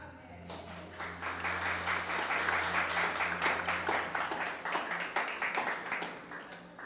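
A graduation audience claps in sustained, dense applause that holds steady for about seven seconds with a faint hum beneath.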